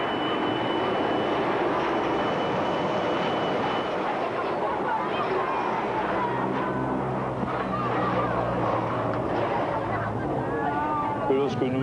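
A French Air Force Transall military transport aircraft drones loudly in flight, a steady engine roar filling the background while someone speaks over it.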